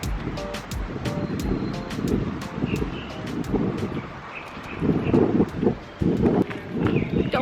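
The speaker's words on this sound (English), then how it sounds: "Oh, windy." Gusty wind in Mérida buffets the microphone in heavy, low rumbling surges that rise and fall, with scattered sharp clicks on top.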